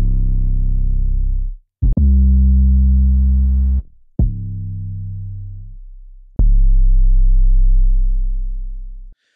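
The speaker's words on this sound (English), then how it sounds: "As you can hear, these are really powerful 808s." Four powerful, loud 808 bass notes play one after another, some dry and some run through effects. Each booms deep, with a sharp attack and a long decaying tail and short gaps between them.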